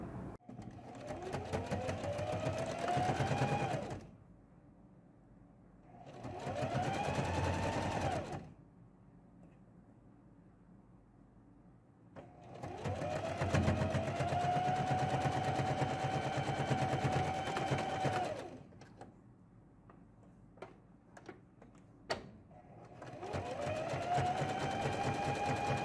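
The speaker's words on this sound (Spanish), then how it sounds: "Vamos a realizar una costura, dejamos un centímetro y pasamos costura de zigzag." A sewing machine runs a zigzag stitch along a seam with a one-centimetre allowance on a child's shorts, in several sustained bursts of rapid mechanical whirring separated by pauses, close and loud, with no talking.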